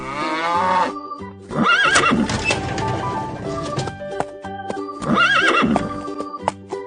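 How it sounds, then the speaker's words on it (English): A horse whinnies twice in loud, high quavering neighs separated by a pause, set over bright cartoonish backing music with hoof-like clip-clop effects. "Horse."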